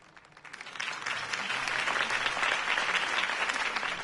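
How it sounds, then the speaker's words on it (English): Video game applause from a crowd in Batman: The Telltale Series swells in after a quiet start and then holds as a steady, dense wash of clapping. "could have heard that applause"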